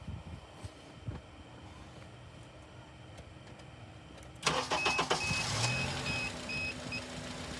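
A car engine cranks and catches partway through, after a quiet stretch, then settles into a steady idle with brief electronic beeps and whine; the car is being tested on a lab scope while stalling.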